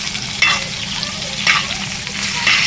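A steak sizzles loudly in a hot pan while being flipped and basted, a steady frying hiss with sharp spatter bursts and spoon scrapes at intervals, heard alone.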